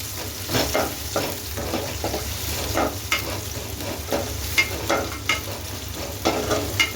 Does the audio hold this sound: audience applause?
no